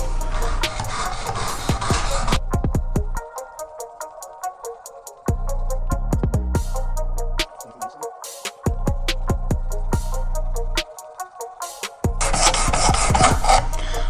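Knife blade drawn in even, repeated strokes across a WorkSharp Precision sharpener, a close, dry rasping scrape that starts and stops in bursts with short pauses between passes.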